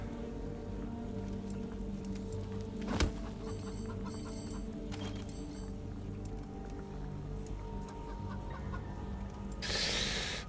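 A chicken clucks in the video game Wasteland 3, with repeated soft clucks over a steady low game ambience, one sharp impact near the middle and a brief hiss of noise near the end.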